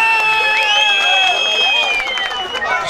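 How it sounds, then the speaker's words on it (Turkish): Crowd at a Tetovo music celebration clapping and whooping for a man named Aslan, a steady loud wash of applause and cheers with high shouted whoops riding on top throughout. "Yeni Zare'den o aslanı bir alkış."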